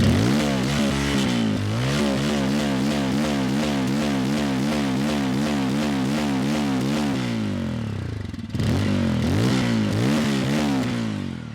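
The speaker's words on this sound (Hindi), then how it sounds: "तो आइडल कंडीशन में कुछ इस तरह से आवाज़ होने वाली है। अब थोड़ा सा इसे हम बढ़ाते हैं।" A Bajaj Pulsar 250 motorcycle engine runs loudly and close with a steady, throbbing, rhythmic exhaust note, dips briefly near the end, then picks up again with rising revs.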